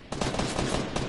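Rapid video game gunfire from a shooter match, a dense continuous burst of automatic shots lasting about a second, loud and close with no talk over it.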